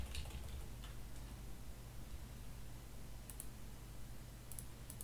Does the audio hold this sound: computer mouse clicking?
yes